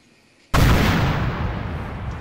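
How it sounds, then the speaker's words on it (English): In the Arma 3 video game, an explosion breaches a cage fence: a sudden loud boom erupts after a short quiet pause, then rumbles on and slowly decays, with no talk. "it was a big explosion to knock down a cage fence"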